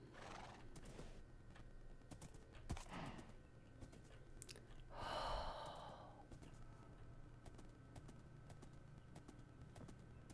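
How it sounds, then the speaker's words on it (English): A horse in Minecraft moves with light clip-clop footsteps and snorts, with a louder breathy whinny midway, all over steady game background noise. "Horse does not go in tree."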